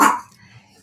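A single short dog bark from a dog kept behind a shut door bursts out at the very start, then fades into near quiet.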